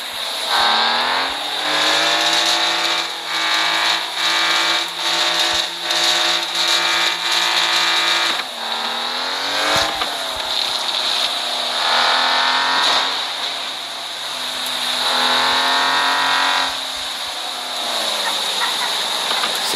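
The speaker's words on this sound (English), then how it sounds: "We're actually going to take her for a little bit of a test drive." A newly bought truck on a test drive, its engine droning loudly and steadily with pitch rising and falling through gear changes and revs, running continuously with no voices.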